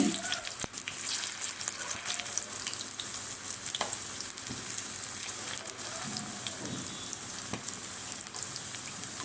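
Elephant foot yam fritters sizzle steadily in hot oil, a dense, continuous crackle with occasional sharper pops and faint clinks, close and fairly loud throughout.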